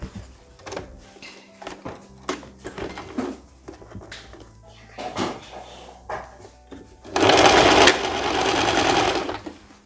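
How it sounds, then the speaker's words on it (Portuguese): A sewing machine runs a long burst stitching the side seam of a summer dress, loud and close, after a stretch of scattered handling knocks and fabric shuffling. "eu tô costurando ela."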